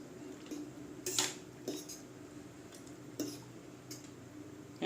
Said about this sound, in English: Make sure they don't stick to the bottom, so you gotta mix and stir it at the bottom.